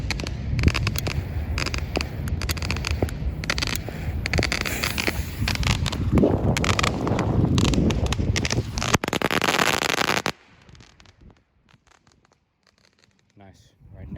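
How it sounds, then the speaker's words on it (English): A 200-strip of firecrackers rips off outdoors in a dense, continuous crackling barrage of rapid pops for about ten seconds, loud and close, then stops abruptly leaving faint background noise. "I think this is a 200 strip firecrackers"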